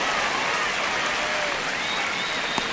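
Dense stadium crowd applause and cheering in MLB The Show 25 during a one-run ninth-inning baseball game, a steady, loud wash of clapping and crowd roar filling the whole stretch with no talk over it.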